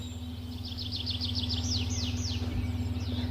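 Birds chirp in a garden beside rows of jujube and tomato plants, a quick series of bright repeated tweets rising in pace, over a steady low hum from nearby machinery.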